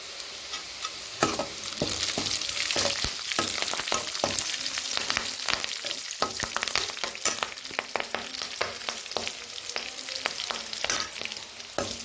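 Onions and curry leaves sauté for mango rice, with a busy run of spatula scrapes and clanks against the pan over a constant sizzle, close and fairly loud, no speech.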